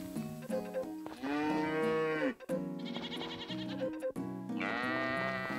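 Cartoonish cow moos in the farming video game Story of Seasons: Friends of Mineral Town, several synthetic mooing calls in quick succession over cheerful game music, clear and prominent.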